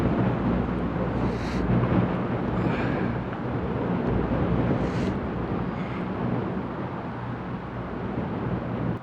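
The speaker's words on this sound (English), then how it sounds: "Really windy." Strong gusty wind buffets a vlogging microphone on a forest hike, a loud continuous low rumble and roar that surges and eases without pause.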